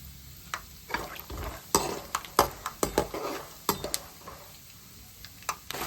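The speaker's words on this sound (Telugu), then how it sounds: "ముందుగా మనం పల్లీలు వేసుకోవాలి." Peanuts frying in oil in a pan for gongura pulihora, stirred with a utensil that scrapes and clinks against the metal in irregular bursts over a steady close sizzle, with no voices.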